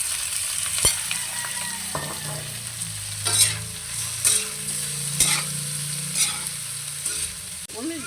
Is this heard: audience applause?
no